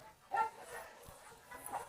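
Several dogs, among them a Kangal, a Rottweiler and a Pitbull, give short yips and whimpering barks, with a sharper burst near the start and another near the end, all at moderate distance.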